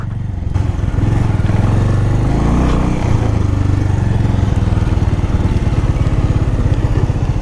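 A motorcycle engine runs loud and close, chugging steadily at idle and low revs as the bike is parked in the Urgam Valley near Kalpeshwar, throbbing evenly from start to end without talk.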